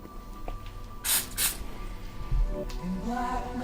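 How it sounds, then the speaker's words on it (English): Two quick hissing bursts of butter cooking spray onto a pan close by, followed by a soft clunk and low kitchen noise. "spray the pan with butter spray."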